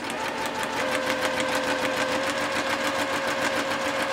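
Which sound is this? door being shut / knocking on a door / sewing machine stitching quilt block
sewing machine stitching quilt block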